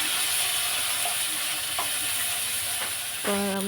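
Steady loud hiss of plantain slices frying in shallow oil, a continuous bright sizzle with a few brief clicks and a short tonal beep near the end, no talking.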